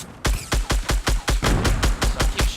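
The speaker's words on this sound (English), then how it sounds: "keep shooting at him" Rapid gunfire in Fortnite: about a dozen loud, closely spaced shots in a steady, even rhythm, heard alone without talk.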